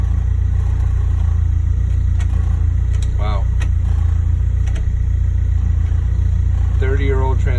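A Toyota AE86 with a 30-year-old transmission drives along, its engine droning loudly and steadily as gears are changed, with a voice making a short exclamation.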